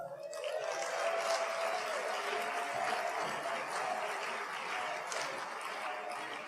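A crowd applauds steadily throughout at a college athletic hall of fame induction, a dense wash of clapping heard from within the room, with a few faint cheers.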